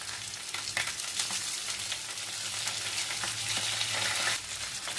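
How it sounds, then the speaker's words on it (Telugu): Gulab jamun balls fry in hot oil with a continuous, dense sizzle that stays steady and close throughout, with no talking. "దీంట్లో ఆయిల్లో కొంచెం ఫ్రై అయ్యాక వేసుకోవాలి అవి గోల్డెన్ బ్రౌన్ కలర్ వచ్చే వరకు వేగనివ్వాలి"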